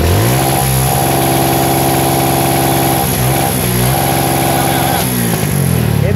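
A Kawasaki Barako 175 motorcycle with a faulty regulator runs loudly up close, its engine holding a steady idle then revving up and dropping back several times.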